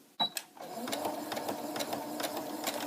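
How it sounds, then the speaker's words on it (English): A Brother CS 6000i sewing machine stitching fabric: a few sharp clicks at the start, then a steady rapid mechanical chatter of the needle, close and fairly quiet. "I'm going to go ahead and start sewing."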